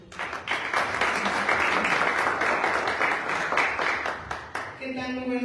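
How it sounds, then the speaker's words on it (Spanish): Sustained crowd applause at a municipal welcome ceremony during the Festival de las Almas in Jiquilpan, a dense, steady clapping that runs loud for about five seconds before thinning out as a voice begins over it. "Recibamos con un fuerte aplauso, por favor, a la síndico municipal"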